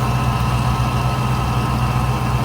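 A supercharged 302 V8 in a 1983 Ford Mustang idles steadily, a loud, close, even engine drone with a constant low rumble and smooth, unbroken rhythm throughout.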